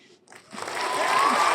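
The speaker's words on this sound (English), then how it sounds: "They are clapping for it." A crowd breaks into clapping after a short pause, the applause swelling steadily and holding at a full, dense level to the end.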